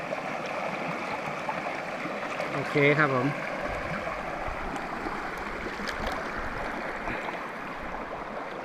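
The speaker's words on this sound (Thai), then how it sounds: "นี่ดูสายน้ำลำธาร สุดยอดจริง ๆ ครับ" A mountain stream flows in a steady broadband rush, with someone speaking briefly over it partway through.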